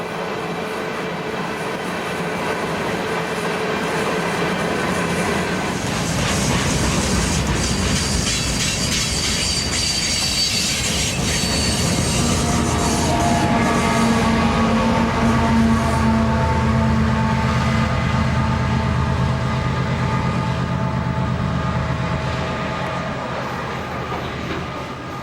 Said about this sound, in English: There is a string of new covered hopper cars.